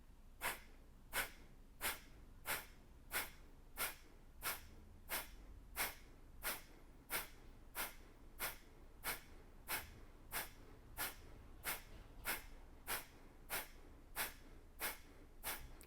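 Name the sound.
rapid forceful exhales through the nostrils, breathing exercise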